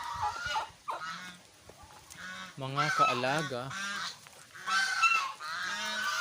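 Geese kept among backyard chickens honk loudly in a burst of overlapping, nasal calls, with a person speaking briefly nearby and quieter stretches between the louder bursts.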